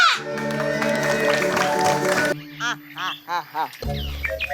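A duck quacks in a quick series of short, nasal bursts, loud and close, following a stretch of busy music and crowd noise on a lenong comedy stage show.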